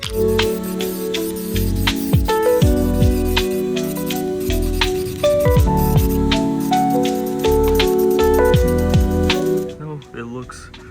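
A third coat of spray paint goes onto the front lip of an Infiniti G35, heard as close, continuous hissing bursts layered with rhythmic rubbing and clattering tones, ending in a short quieter tail.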